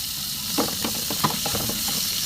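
Ginger and onion sizzle and hiss steadily in a hot pan while being stir-fried for pinakbet, with faint scraping stirs and a few brief crackles over the continuous frying noise.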